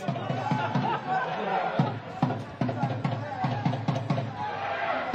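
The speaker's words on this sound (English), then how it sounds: "Big crowd, big occasion" Crowd at a live non-league football match between Farnham Town and Sutton Common Rovers, a steady broad murmur of chatter and babble with scattered sharper shouts throughout, fairly loud and continuous.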